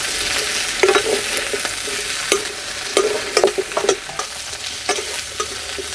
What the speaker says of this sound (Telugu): ఇప్పుడు క్యాలీఫ్లవర్ కూడా వేసుకుని ఒక 3 నిమిషాల పాటు వేయించుకుని దింపేసుకుందాం